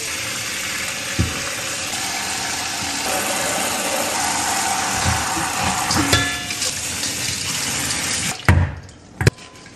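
Tap water runs steadily into a kitchen sink while peeled, tail-off shrimp are rinsed, a continuous close hiss with a few clatters, then the flow stops near the end with brief knocks.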